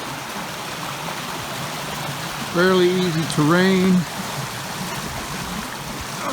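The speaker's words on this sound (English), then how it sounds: "being able to walk along a mountain stream, the water flowing" A mountain stream flows in a steady, close rushing wash beside a hiking trail, while a voice speaks briefly over it.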